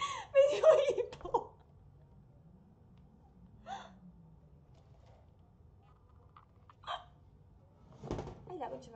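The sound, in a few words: hiccups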